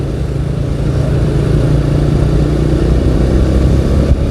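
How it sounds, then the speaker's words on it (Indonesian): A large car passes on a road in the Tasikmalaya and Ciamis area, its low engine rumble loud and steady throughout with wind noise mixed in, no one speaking. "Ada mobil agak gede."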